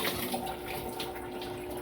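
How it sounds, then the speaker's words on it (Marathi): Tap water runs steadily into a tub filling for washing grated potato, a continuous even splashing flow alone without pause. "आता आपण ह्या टपात पाणी टाकले ना भरपूर"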